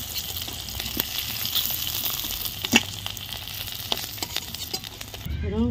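Panch phoron and dried chillies crackle and sizzle in leftover fish-frying oil, a continuous close hiss with sharp pops and spatters, loudest near the end.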